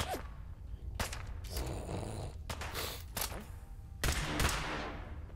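Laser weapons fire in the video game Fallout 4 in sharp, irregular bursts of crackling shots over a low rumbling background, fairly faint, with no talking.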